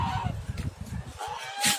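A domestic goose honks repeatedly up close, a series of loud nasal calls in an uneven rhythm with a sharper cry near the end.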